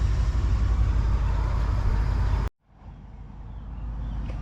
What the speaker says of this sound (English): There's a lot of traffic right now.